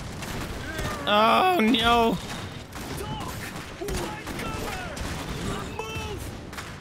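Gunfire in the Iron Harvest strategy game crackles in scattered bursts as a steady battle din, with someone talking over it and a brief tonal game sound near the start.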